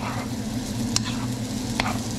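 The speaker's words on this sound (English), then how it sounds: "Now I'm gonna give it a nice little stir and get everything all nice and mixed up." Pasta being stirred in a pot for flounder alfredo, a steady low bubbling simmer with two brief scraping clinks of the utensil, close and moderately loud, with no talking.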